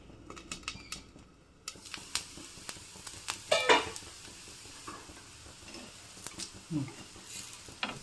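Akki rotti made with avarekaalu fries in oil in a pan, giving a soft sizzle under intermittent scraping and tapping of a utensil, close by, with brief clattering bursts.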